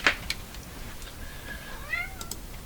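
A cat meows a few times nearby, soft drawn-out calls rising and falling over a quiet room, with no one talking.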